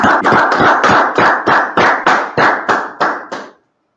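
A class claps hands together in a series of about a dozen loud, evenly spaced claps that stop abruptly, with no talking over them.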